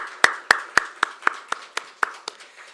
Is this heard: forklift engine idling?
no